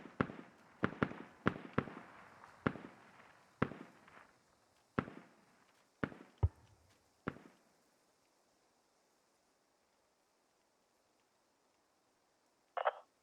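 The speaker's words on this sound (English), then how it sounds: "Mortars incoming." Mortar shells landing in the military shooter game Squad: a rapid string of about ten sharp, booming impacts over the first seven seconds, then silence and a brief faint burst at the end.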